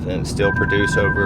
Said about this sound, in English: what you just heard was the forward collision warning because that car was turning